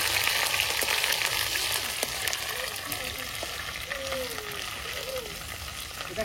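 Homemade ayurvedic hair oil bubbles and sizzles softly in a pan, a steady fry-like hiss with a few faint clicks of stirring, while a voice speaks briefly nearby.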